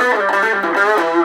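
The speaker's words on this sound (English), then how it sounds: "if I turn the volume up to 3/4, it gets more distorted." Distorted electric guitar played through the distortion channel of a CBSky mini amp turned up to three-quarter volume, a sustained, buzzy chord ringing steadily and loud with no talking.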